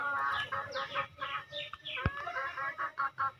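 A hen clucks after laying an egg in a rapid series of close, insistent clucks and squawks with short pauses, a sharp click cutting through once.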